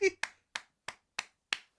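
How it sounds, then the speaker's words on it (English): Six sharp, evenly spaced hand claps close up, about a third of a second apart, preceded by a short vocal sound; no talking over them. "That was 7 claps."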